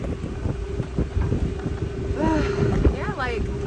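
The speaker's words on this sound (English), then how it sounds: "It's a perfect windy day." Gusty wind buffets the microphone aboard a moving sailboat at about 7 knots, with rushing water underneath and a few chirpy vocal sounds and voices partway through.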